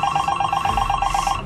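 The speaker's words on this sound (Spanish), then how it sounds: "Es el teléfono de Mía. Contesta." Telephone ringing in a Spanish-language drama film, a steady pulsing electronic ring repeating rapidly over low room noise, fairly close and without talk.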